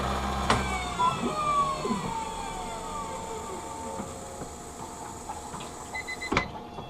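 A lens edging machine grinds a clear lens for a Ray-Ban 2132 New Wayfarer, giving a steady mechanical whine with gliding, shifting tones, framed by sharp clicks near the start and end.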